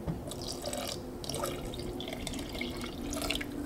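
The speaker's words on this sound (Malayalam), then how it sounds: "ഇതിലേക്ക് വെള്ളം ചേർക്കാം." Water poured from a mixer jar into ground roasted coconut curry paste for a Kerala egg curry, a continuous splashing, trickling pour with dripping, close and moderately loud, no voices.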